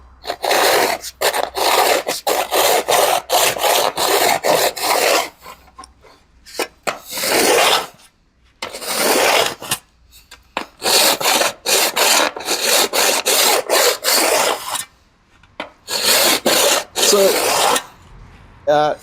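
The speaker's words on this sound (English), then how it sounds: "So I'll just file those down." A hand file rasped across an aluminium car body panel on an AC Cobra build, loud close scraping strokes in fast rhythmic bursts with short pauses between runs.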